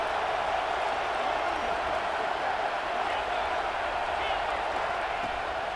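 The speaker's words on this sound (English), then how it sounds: "how nice is it to have the home crowd going absolutely bananas?" A home stadium crowd in the football video game EA Sports College Football 26 roars in a continuous dense wash of cheering and noise, loud and steady throughout, with speech mixed in.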